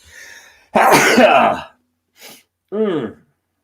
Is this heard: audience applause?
no